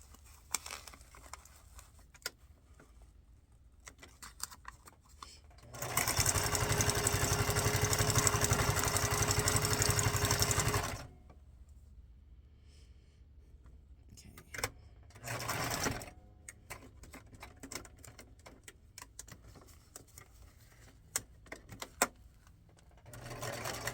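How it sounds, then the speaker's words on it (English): A sewing machine stitches paper and fabric scraps into snippet roll strips for junk journaling, a loud steady motor whir for about five seconds, then a shorter burst, with quiet handling clicks between. "So let's sew this in."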